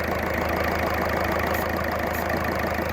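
A Ford Fusion engine with black smoke and power loss idles steadily at close range, a continuous low rumble with an even mechanical pulse and no speech.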